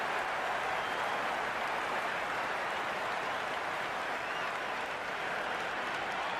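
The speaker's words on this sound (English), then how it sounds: "It's evident and ever so audible that the crowd is at near bursting point at today's play" Dense, sustained applause and crowd roar fill a packed stadium at a T20 World Cup cricket match between Australia and South Africa, a steady wall of clapping and cheering with no let-up.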